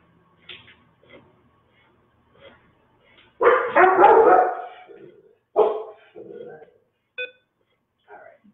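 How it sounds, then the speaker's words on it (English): A dog barks in a loud burst of several rapid barks, followed by a few shorter single barks, with quiet gaps and faint indoor sounds between them. "Sorry about the dog barking again."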